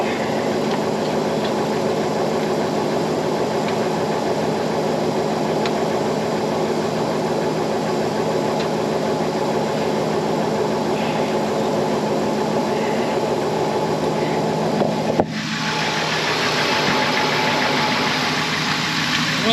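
A Timberjack log skidder engine runs steadily with a constant, loud mid-pitched drone, and a brief clunk near the end shifts its tone slightly.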